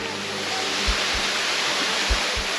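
Water pours continuously in a dense, hissing roar from Cetti Falls in Guam, close by, with a few low thumps underneath.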